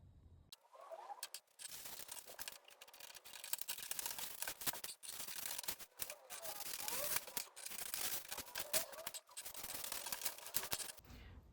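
Scissors cutting out a size M paper sewing pattern for shorts, close crisp snips and paper rustles in irregular bursts with short pauses, no talking.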